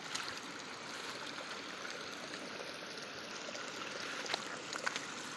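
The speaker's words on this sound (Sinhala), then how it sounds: "මේ පැත්තෙන් ගලාගෙන යනවා වතුර පාර." A stream of water flows steadily near Kitulgala, Sri Lanka, a constant broadband rush with small splashes and trickles rising briefly near the end, with no talking.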